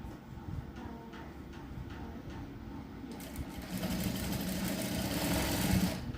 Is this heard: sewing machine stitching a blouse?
yes